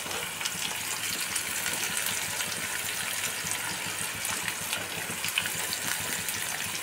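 A steady, loud sizzle fills the air as chopped onion and green chilli go into browned garlic in a hot frying pan, a continuous hiss of frying with no talking.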